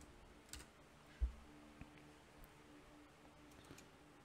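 Several sparse keystrokes on a computer keyboard, quiet and close, tapped at an uneven pace while entering a command on a network firewall setup, with no voices.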